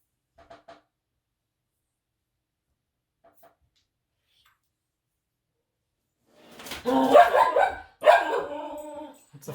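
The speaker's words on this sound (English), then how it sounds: "It's the first time she's actually barked, I think, on camera, right?" A pet dog barks at close range in a room during a strategy tile board game, a loud burst of several barks and yips following a long near-silent stretch, with a few faint sounds before it.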